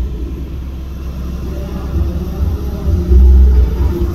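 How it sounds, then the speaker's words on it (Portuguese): Deep, booming bass from car audio sound systems at a small car sound meetup, heard from a distance as a low rumble that thumps louder toward the end. "Olha o som dos meninos ali, ó."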